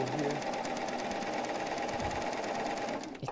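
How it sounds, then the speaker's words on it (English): A sewing machine stitches a zigzag over a fine cord with a rapid, even mechanical whir close by, running steadily and then slowing at the end. "meaning to zigzag it over it with the sewing machine."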